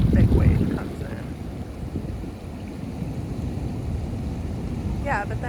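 A big ocean wave surges into a rocky tide pool along the coast, starting as a loud, low rush that settles into a churning wash. Wind buffets the microphone, and faint voices can be heard.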